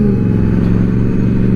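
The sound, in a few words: Ducati 848 motorcycle passing by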